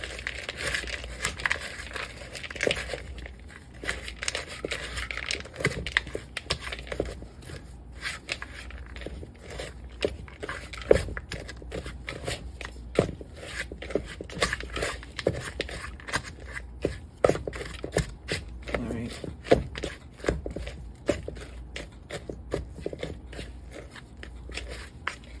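Chocolate chip cookie batter with a couple tablespoons of caramel bits being stirred by hand, a steady stream of soft crinkly scrapes and sticky thuds repeating irregularly at close range, with no talking.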